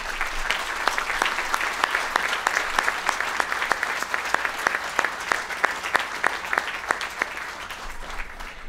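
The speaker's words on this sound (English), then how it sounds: "Andy, please stand for the applause of a grateful county." Crowd at an outdoor 9-11 memorial ceremony at a dam plaza gives sustained applause, many hands clapping steadily for several seconds at moderate loudness, with a few sharper individual claps standing out.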